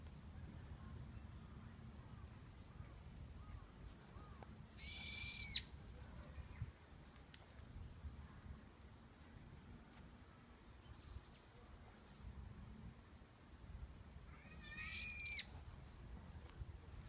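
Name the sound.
screaming birds in Japan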